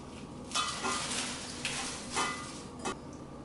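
Curried quinoa and strawberry salad is tossed in a bowl, a few soft clinks and scraping rustles of utensils against the dish in irregular bursts, close by.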